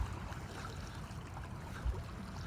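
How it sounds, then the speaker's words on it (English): Small lake waves wash gently onto the shore in a steady, soft, continuous rush heard alone at low level, with one brief low thump near the end. "You see the waves rolling through."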